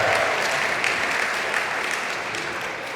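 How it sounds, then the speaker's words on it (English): Wedding guests at an evening reception give a loud, sustained round of applause for a father-daughter dance, a dense wash of many hands clapping steadily from start to finish. "let's have one more big round of applause for Laura and Dad celebrating a special dance here this evening"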